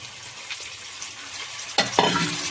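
Tomato pieces tossed into onions and ginger frying in a pan, a quiet sizzle that swells into a loud burst of hissing and a couple of spoon knocks as they land.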